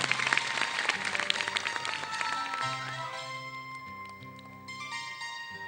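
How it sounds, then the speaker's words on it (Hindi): Dense applause from a talk show audience fills the opening seconds, then thins and fades while music plays underneath. "बहुत सारी तालियां"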